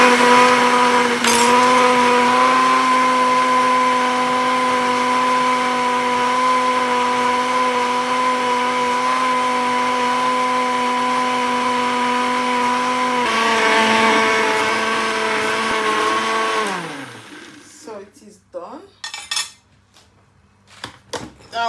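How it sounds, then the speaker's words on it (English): Kitchen blender whirring through a summer smoothie, a loud steady motor drone with a clear tonal whine that shifts midway, then winds down and stops, followed by clattering handling sounds. "And I will go on and blend."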